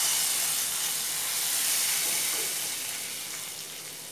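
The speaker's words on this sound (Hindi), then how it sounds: "इस तड़के को अब हम दाल में डाल देंगे।" Hot garlic tempering poured into cooked green whole moong dal, giving a loud, steady sizzle that holds for several seconds and slowly fades toward the end, with no voices.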